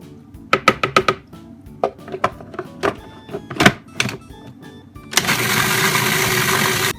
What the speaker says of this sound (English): and continue to blend it all together.